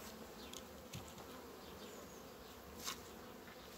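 Honey bees buzz steadily at a hive in spring during colony feeding, a dense continuous drone with a few brief louder passes of individual bees close by.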